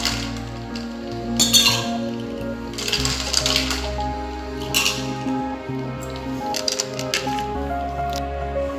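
Ice cubes drop into a glass while a rose drink is being made, giving a few bright clinks in separate bursts over a steady background hum, close and moderately loud, with no talking.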